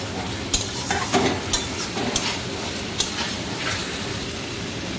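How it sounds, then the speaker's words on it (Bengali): Potatoes stir-fried with spice paste in a pan, a steady close sizzle broken by repeated sharp scrapes and clinks of the spoon against the pan. "আলুগুলো দিয়ে একটু মশলাটাকে কষিয়ে নেব"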